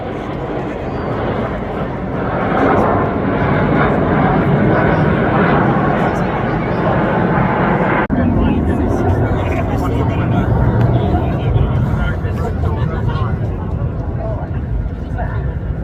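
Jet aircraft of a display team performing a Typhoon roll at the Blackpool airshow: a steady, loud jet roar that swells and holds, with crowd murmur and a commentator's voice running underneath.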